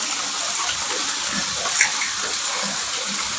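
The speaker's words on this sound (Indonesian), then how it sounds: "ikut mandi nih di sini, karena airnya seger banget ini" Fresh water splashing and pouring steadily as a person bathes outdoors at a remote house, a continuous broadband gush close by with no talking.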